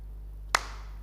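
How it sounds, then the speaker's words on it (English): A single sharp hand clap rings out once in a quiet indoor room during a meditation session, standing alone over a low steady hum. "Sound of a clap erupted."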